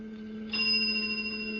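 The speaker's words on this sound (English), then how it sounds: "A moment until the bell sound." A bell rings once with a sudden bright strike, then hums on as a steady metallic tone. It is close but fairly quiet, over a low background hum.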